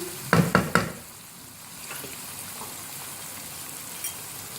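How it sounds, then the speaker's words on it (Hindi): Mutton frying in a pan as crushed black pepper is added, three quick close scrapes or taps at the start, then a soft steady sizzle with a faint click near the end. "अब आखिर में काली मिर्च शामिल करेंगे, क्रश की हुई।"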